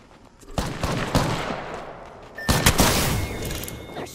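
Enemy gunfire in Apex Legends, two clusters of rapid shots, the first volley moderate, the second louder and denser, with a mechanical hum fading through the pauses.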